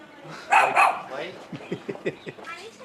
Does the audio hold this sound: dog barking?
yes